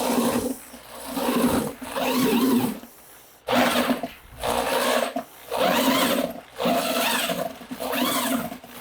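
A cheap power drill with a paddle mixing thinset mortar at slow speed for bathroom floor tile, loud and close, running in several grinding bursts of a second or two separated by brief pauses.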